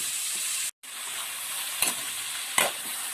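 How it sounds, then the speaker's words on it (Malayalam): Spinach stir-fry (cheera thoran) sizzles steadily in a hot pan, with a couple of sharp stirring scrapes breaking through the continuous close frying hiss; no one speaks. "നമുക്കിതൊന്ന് മിക്സ് ചെയ്ത് കൊടുക്കാം നന്നായിട്ട്."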